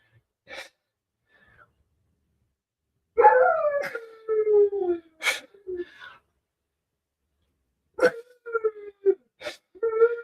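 A dog in a crate whines and howls in drawn-out, wavering cries, with a few short yelps and breaks of silence between bursts; the dog is close and loud and no one speaks over it.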